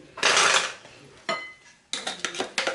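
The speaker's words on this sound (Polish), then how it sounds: "Miseczka jest troszeczkę za mała, więc przekładam do większej miski" Crumb-cake batter is moved from a small bowl into a larger mixing bowl, heard as three close bursts of spoon clinking and scraping against the bowls with short pauses between them and no talking.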